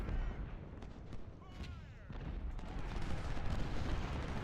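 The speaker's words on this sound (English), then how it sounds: "Firing right into Brewster and Lyle's flanks, driving them both back." Musket volleys and artillery fire from a Civil War battle in Ultimate General: Civil War crackle and rumble continuously at a distance, with someone talking over the din.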